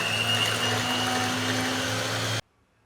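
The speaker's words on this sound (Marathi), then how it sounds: "चला क्रीम फेटते" Steady electric mixer whirring at full speed as it whips cream at home, a constant motor hum with whooshing beaters close by, cutting off abruptly near the end.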